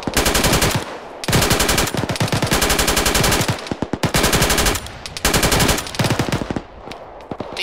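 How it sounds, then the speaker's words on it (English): Machine gun fire in a military video game, long loud bursts of rapid shots close by, broken by brief pauses, with no talk over it. "there's a machine gun nest in your front behind that big rock"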